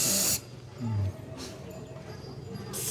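A spray can of red paint hisses in sharp bursts, a loud spurt at the start, a fainter one midway and another at the end, over a steady low background with no clear speech.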